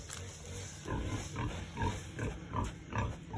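A pig behind a house grunts repeatedly in a loose rhythm of short, low snorts, moderately close and fairly quiet, with no talk.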